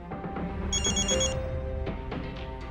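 A returned call sets off a telephone ringtone, a bright electronic chiming melody with a brief high trill, steady and fairly close, playing alone without speech.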